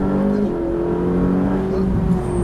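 Ferrari 458 engine holding a steady, loud tonal drone as the car accelerates, a continuous close-up hum without noticeable gear changes.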